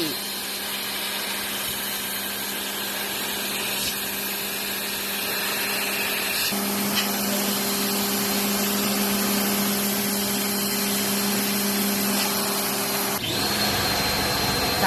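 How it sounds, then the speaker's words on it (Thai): A pressure washer sprays water to clean the front AC condenser of a second-generation Honda CR-V, a loud steady hiss with a constant motor whine. Its tone shifts abruptly about halfway through and again near the end. "ช่างจัดการฉีดล้างความสะอาดแผงแอร์หน้ารถให้"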